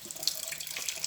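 Tap water runs into a kitchen sink during dishwashing, a faint, steady hiss with a few soft splashes over about a second.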